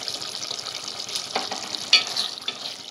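Curry leaves sizzle as they are stirred into a nearly dry okra masala gravy in a pan, giving a soft, steady frying hiss with a few brighter crackles and the scrape of stirring, close and fairly quiet.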